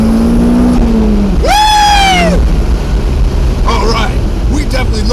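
A Toyota MR2 engine revs under turbo boost with a loud, rising then falling whine over constant road and engine roar, heard close from inside the car.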